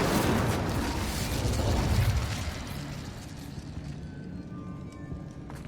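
A Confringo blasting spell goes off in the Hogwarts Legacy video game, a loud, close, rumbling explosion that fills the first seconds and then fades into crackling, settling debris.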